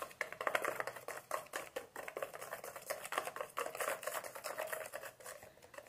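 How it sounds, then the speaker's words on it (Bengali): A moong dal chilla batter has salt stirred into it, fast rhythmic wet tapping and patter of a spoon beating through the batter in a bowl, quiet and close, no voices. "লবণকেও এই ব্যাটারের সাথে খুব ভালো করে মিশিয়ে নিতে হবে।"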